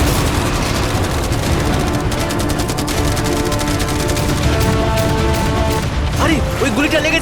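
Rapid bursts of machine gun fire mixed with heavier cannon shots rattle continuously at a yacht, loud and dense for several seconds. Fireworks, arrows and catapults are also being launched at it.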